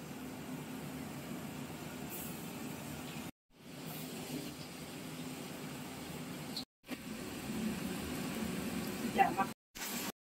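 Fish frying in hot oil in a home kitchen, a steady soft sizzle and crackle heard up close, with brief gaps and a quiet voice over it.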